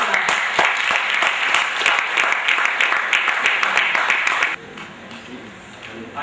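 An audience breaks into applause to welcome a speaker, loud sustained clapping with a few sharp individual claps standing out, then cutting off abruptly near the end to a quieter room.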